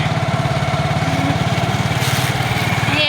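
A motorbike engine runs steadily while riding, its low chugging pulse loud and close throughout, with wind rush and a brief higher hiss near the end.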